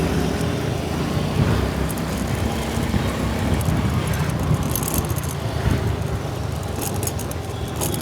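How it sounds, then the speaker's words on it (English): Cars and motorbikes pass steadily on a village road in Reis Magos, North Goa, a loud continuous traffic rumble with engine whine and occasional rattles. "Cars, bikes coming from all sides."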